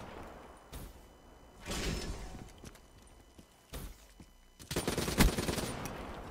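Bursts of automatic gunfire in a Call of Duty Black Ops 3 multiplayer match, several rapid volleys at moderate distance separated by quieter gaps, with the heaviest burst near the end.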